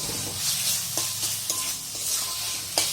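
Taro leaves cooked with garlic sizzle in a pan while a spoon stirs and scrapes in short, irregular strokes, loud and close with no voices.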